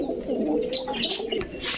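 Pigeons coo softly nearby in a low, rolling murmur with a few brighter chirps mixed in, and no talking.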